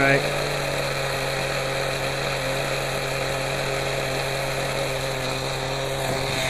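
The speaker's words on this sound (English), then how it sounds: "Let me just rev it up a little bit. I don't want it to die on me here." A .18 nitro RC helicopter engine runs at a steady, loud, high-pitched whine with buzzing harmonics as it is revved, with talk over it throughout.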